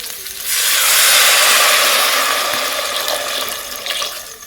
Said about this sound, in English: And then I'm going to go ahead and add some water here